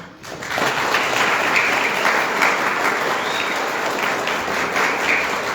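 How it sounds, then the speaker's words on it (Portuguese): An audience at a nativity play applauds the play's director, the clapping swelling in after a brief quiet moment and then continuing as a full, steady, close round of applause. "Então, gostaria que a gente desse uma salva de palmas."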